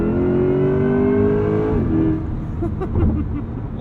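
Chevy Corvette E-Ray pulling from 60 to 80, the engine note rising steadily and loud inside the cabin before a quick kickdown shift drops it into a lower, grumbling roar.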